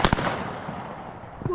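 A shotgun fires at a pheasant shoot, with a sharp, loud double report at the start that rolls away into outdoor rumble and a faint later thump.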